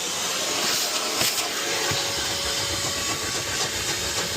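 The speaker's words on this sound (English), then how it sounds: "I'm going to hoover this now" A vacuum cleaner runs continuously inside a car, a steady loud hissing roar with a few brief changes in tone as the nozzle moves, and no voices.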